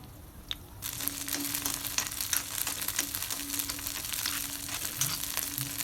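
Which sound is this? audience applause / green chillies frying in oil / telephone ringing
green chillies frying in oil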